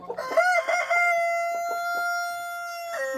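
A rooster crows once in a long, clear, sustained call, close and loud, at a small backyard poultry flock at a country cottage.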